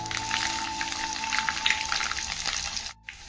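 Garlic and fresh chillies crackle in hot tempering oil for a cucumber tomato dal, a steady bubbling sizzle with small pops that drops out briefly before resuming more quietly.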